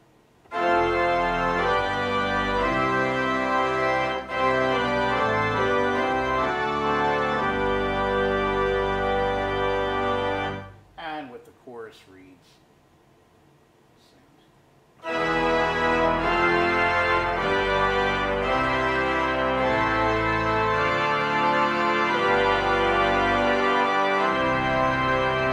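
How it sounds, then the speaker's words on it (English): A residence pipe organ plays with its small reed stops, a sustained full chord texture with a brief quieter break in the middle before the loud reedy sound resumes. "With the small reeds, it would sound something like this"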